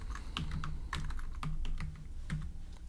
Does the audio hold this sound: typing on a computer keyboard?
yes